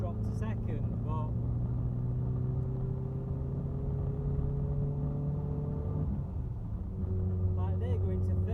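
A car engine drones under load in second gear while climbing Winnats Pass on a summer drive, a steady low hum with pitch that rises and shifts as revs change, heard from inside the cabin alongside a speaking voice.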